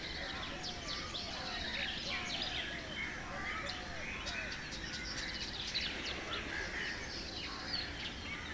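Pigeons and doves coo repeatedly in soft low phrases beneath a busy outdoor chorus of chirping birds, steady and fairly faint throughout.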